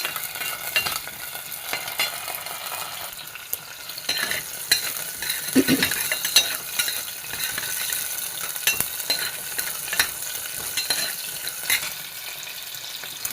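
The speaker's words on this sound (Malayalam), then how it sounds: "ഇതാ എണ്ണ ഒഴിച്ചു ഇതാ ചെറിയുള്ളി വെളുത്തുള്ളി ഇട്ട് കൊടുത്തു ഇതൊന്ന് വഴറ്റിയെടുക്കാം" Shallots and garlic fried in oil for a vegetable fish curry give a continuous close hissing sizzle with occasional spoon stirs, steady and fairly loud, with no talking.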